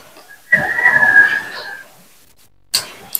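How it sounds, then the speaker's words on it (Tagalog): A rooster crows once nearby, a single drawn-out call lasting about a second, followed by a quiet gap and a brief sharp noise at the end. "pasensya na kung meron kayo naririnig na taktalaok ng manok"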